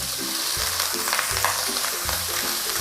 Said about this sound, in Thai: แล้วก็ผัดนะคะ ให้หมูสับสุกนะคะ ผัดให้หมูเกือบสุกเลยนะคะ